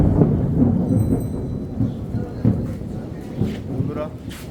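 Heavy rain rumbles in a steady wash, heard from the veranda of an old zamindar mansion, with a deep roll like distant thunder. A person talks over it now and then.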